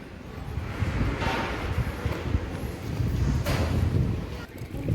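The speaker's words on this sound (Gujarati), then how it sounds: "મસ્ત ઠંડો પવન આવે છે" Steady wind blows across the microphone at the Gondal riverfront, a broad rushing roar with gusty swells and no talking.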